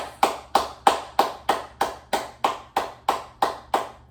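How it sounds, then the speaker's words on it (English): A dozen evenly spaced, sharp hand claps ring out one by one in a chair yoga class, each loud and close with a short decay, on a steady slow beat and with no talking. "I want you to give yourself a round of applause"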